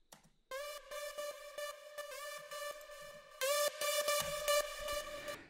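Hardstyle lead synth made in FL Studio, played dry without OTT compression: a bright, buzzy harmonic lead in a choppy rhythm of short repeated notes that jumps up in pitch partway through, with no voices.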